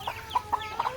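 Chickens on a village farm with chicks and hens give four short, soft clucks at a steady spacing, close by over a faint background.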